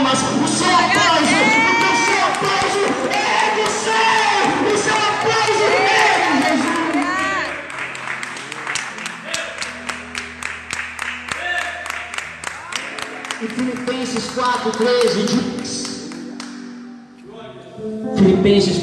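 A church congregation claps and cheers loudly and continuously, with whoops and shouts rising over sustained applause, then thinning to scattered clapping before a brief final swell.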